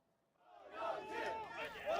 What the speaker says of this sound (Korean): 지지자들의 함성과 장애인 단체의 고함이 뒤섞이는 순간